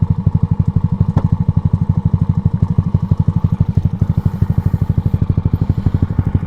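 A Yamaha Aerox 215cc scooter engine idling up close, a loud, steady, rapid putter with even pulsing that holds throughout.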